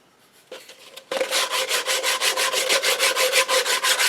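An 80 grit machine belt sandpaper sands a walnut wood rifle stock, starting with a couple of faint scrapes, then settling into loud, close, rhythmic rubbing strokes repeated steadily.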